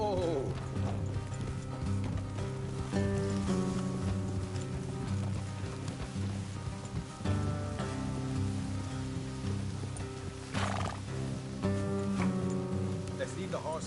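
Horse hooves clip-clopping steadily in Red Dead Redemption 2, with rain pattering and a brief neigh, under game music and people talking.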